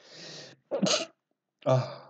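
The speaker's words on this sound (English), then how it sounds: "This was just a sneeze." A single close, forceful sneeze with a sharp intake of breath, heard in a quiet room during a live online class.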